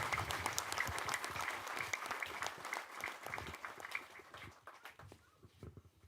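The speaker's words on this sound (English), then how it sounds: "give your hands together for the President." An audience at a community meeting with the President applauds in a steady patter of many hands that fades toward the end, faint and a little distant.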